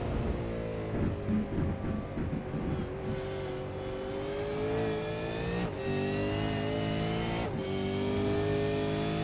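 A race car engine in the iRacing sim at Barcelona-Catalunya sings loudly and close as the revs climb steadily. Two sharp gear shifts cut the tone before it rises again.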